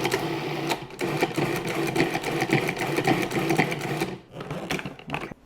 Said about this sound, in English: I'm going to add this garlic salt mixture to the food processor. I'm going to add the basil leaves. And I'm just going to pulse it.